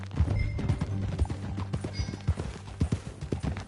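Horse hooves gallop in a fast, steady clip-clop rhythm in the Western video game Red Dead Redemption 2, close and loud with no talk.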